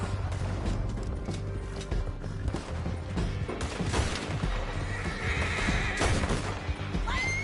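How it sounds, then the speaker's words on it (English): Horses neigh and gallop in Red Dead Redemption 2 amid a chaotic action scene, with loud whinnies rising over pounding hooves, crashes and rumbling noise throughout. "Men on horses."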